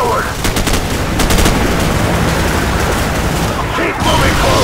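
Heavy automatic gunfire from a Call of Duty 4 battle mission, dense rapid bursts of rifle and machine-gun shots with booming impacts, loud and continuous, with shouted voices faintly mixed in.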